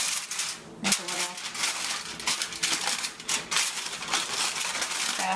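Aluminum foil is laid down and pressed into shape inside a roasting pan, giving continuous crinkling, crackling rustles up close, with bursts of sharper crumpling throughout.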